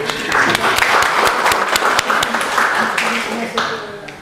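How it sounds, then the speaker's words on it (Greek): Audience applause in a lecture hall during a talk on the science of happiness, dense clapping steady and loud for about four seconds, with some voices mixed in and a slight fade near the end. "Χειροκρότημα."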